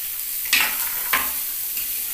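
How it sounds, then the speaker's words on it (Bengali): Potato and cauliflower pieces frying in a pan for homemade singara filling, with a continuous close sizzle and two distinct scraping stirs. "মশলাগুলো এখন দেবো না, কারণ এটাকে আগে আমাকে ভেজে নিতে হবে।"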